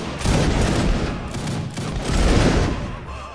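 Musket volley fired by an infantry line in a line-battle video game, a loud dense crackling fusillade of many shots blending into sustained rolling gunfire.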